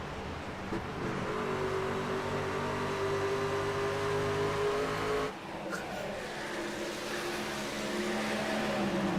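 Video game race car engines at Iowa Speedway oval drone steadily with shifting pitch, dipping briefly into the turns before revving back up, under faint commentary in the background.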